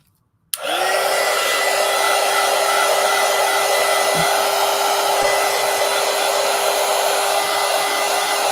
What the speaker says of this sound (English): let's go ahead and let's dry first, then we'll trim